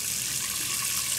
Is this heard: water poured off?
yes